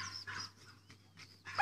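A female dog gives short, sharp barks and yips in brief bursts separated by pauses, close by, ending in a louder bark.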